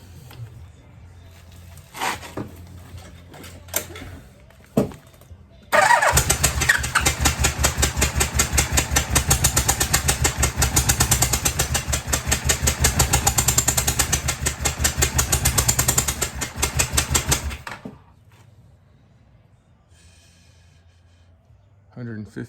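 A 1986 Yamaha Venture motorcycle engine with a misfire runs on only two cylinders. It clicks and coughs, then catches into a loud, rough, pulsing run for about twelve seconds before dying away, with talk around it.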